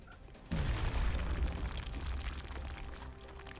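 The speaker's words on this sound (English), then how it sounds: "Grenade." Grenade detonation in XCOM: Enemy Within, a sudden heavy boom after a short quiet lead-in, followed by a long rumbling, crackling roll of debris that slowly fades, loud and close with no talking.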